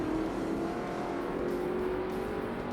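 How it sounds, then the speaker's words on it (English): A car with an upgraded exhaust in Forza Motorsport drones steadily at high revs, a close, sustained engine tone with no pauses. "This sounds very nice with that upgraded exhaust."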